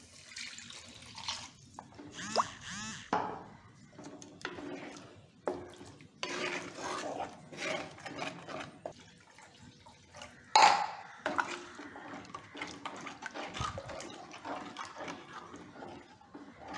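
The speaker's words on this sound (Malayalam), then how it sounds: "ഇതിലോട്ട് ആവശ്യമുള്ള വെള്ളം ചേർത്ത് കൊടുക്കാം" Water pours and splashes into a pot of fish curry in several bursts, mixed with quiet stirring and clinking, fairly soft overall.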